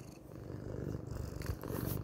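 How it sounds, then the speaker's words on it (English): A cat purrs softly and steadily up close, a low rhythmic rumble with faint rustling over it. "maybe you can hear her purring"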